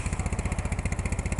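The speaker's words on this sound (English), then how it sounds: "And listen to that bike idle." BMW R1200C motorcycle with a Steib S501 sidecar idling up close, a steady, even low putt-putt pulse from the engine running alone.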